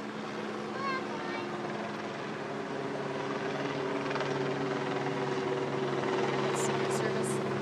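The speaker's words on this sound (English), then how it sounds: "Got it, and there's a helicopter." Steady low rotor drone of a helicopter, fairly distant and continuous, with faint outdoor background and brief voices in the distance.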